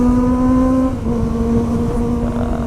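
A big motorcycle of over 250 cc revs loudly and close, a steady droning engine tone that dips and rises again as the throttle is blipped, with no talk.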